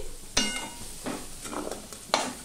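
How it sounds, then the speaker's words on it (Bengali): A few sharp stirring scrapes break over a soft, steady sizzle of peas frying in a pan. "আমি ঢাকা দিয়ে দিয়েই ভেজে নেব"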